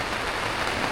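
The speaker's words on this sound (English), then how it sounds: "It's just complete rain" Heavy rain pours onto a motorhome awning in mountain country, a dense, even hiss and patter that is close and continuous with no break.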